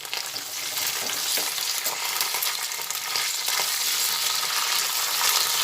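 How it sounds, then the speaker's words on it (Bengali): Capsicum and peas fry together in a pan for fried rice, giving a loud, continuous close sizzle with crackling and occasional stirring scrapes throughout. "সব জিনিস একসঙ্গে ভেজে নিচ্ছি"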